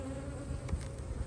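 Honey bees in a spring hive being cleared from frames with gentle smoke, a steady close droning buzz that swells and dips slightly, with no voices.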